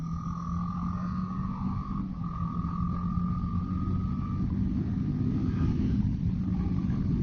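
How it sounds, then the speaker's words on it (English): Motorcycle ridden hard on a Bengaluru highway: a steady droning engine hum with a rising tonal whine, mixed with constant wind rush, heard continuously from the rider's position with no talking. "I'm gonna start slightly ripping open the bike"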